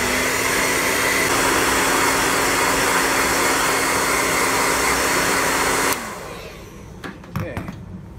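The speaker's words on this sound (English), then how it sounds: "I'm gonna go ahead and hit it with the hairdryer again" A hair dryer blows with a loud, steady whooshing roar for several seconds, heating the buckram of a 59Fifty cap, then switches off abruptly, leaving quiet room noise and a few soft knocks.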